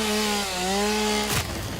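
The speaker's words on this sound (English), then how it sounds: "It runs off all the solid biofuel I have." Chainsaw from the video game Satisfactory, fuelled by solid biofuel, revving with a steady whining engine drone that dips briefly and then cuts off into a rough burst near the end, loud and close with no talking.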